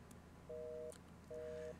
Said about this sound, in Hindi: आबिद को फोन मिलाता हूँ मैं।